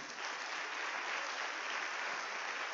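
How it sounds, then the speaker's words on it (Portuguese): A church congregation applauding during a celebration service, dense steady clapping from many hands that holds even throughout, heard at a moderate distance with no voices over it. "Dê um aplauso bem forte a Ele"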